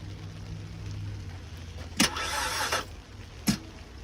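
A car engine with a bad starter cranks in two short bursts, the first longer and grinding, the second a brief click-like crank, without catching; no speech.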